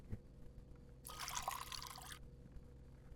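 Water poured from a cup in the video game Fear To Fathom, a steady bright trickling stream lasting about a second, faint behind quiet room tone.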